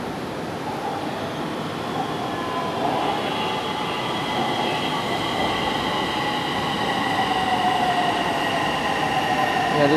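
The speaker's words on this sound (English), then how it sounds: "Yeah, this is the train." A metro train at an MRT station rumbles steadily nearby with a constant mechanical roar and faint squealing tones.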